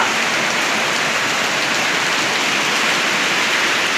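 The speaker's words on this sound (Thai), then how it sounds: "ฝนตกอีกแล้วครับ เย็นสบายเล ย" Steady, dense rain pours down and patters on surfaces nearby, an even hiss that continues unbroken with no voices.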